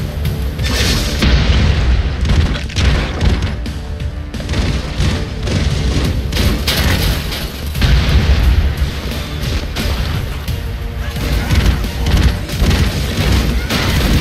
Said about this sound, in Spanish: Creo que he lanzado granadas